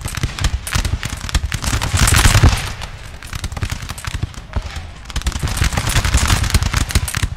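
Massed musket volleys crackle and roll through a wooded battlefield in Napoleon: Total War, dense overlapping gunfire rising and falling in waves with deep booms underneath, sustained and loud throughout.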